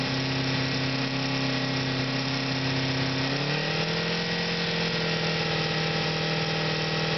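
A Honda CB550 motorcycle engine runs steadily for the whole stretch. It hums in a strong, even drone, and partway through it rises to a higher, smoother pitch as the revs climb to about 4,000 RPM. Nobody talks.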